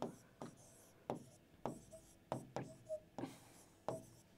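Bengali letters are handwritten during a Class 6 Bangla grammar lesson: a series of about eight short, distinct pen or chalk strokes, close and fairly quiet, in an uneven rhythm with brief pauses between them.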